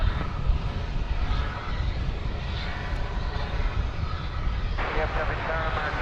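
An Ameriflight cargo plane's engines drone steadily at DFW airport, a broad, continuous roar that stays fairly even throughout, heard from a spotting position with no clear speech.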